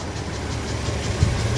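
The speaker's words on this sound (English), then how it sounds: "You see it idles really good." A 1993 Toyota Land Cruiser Troopy's 1FZ-F 24-valve inline-six idles steadily and evenly, a loud continuous rumble heard close up inside an enclosed space with no talking.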